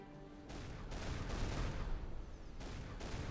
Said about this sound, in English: I'm gonna pop them up and see if they can fire off some shells.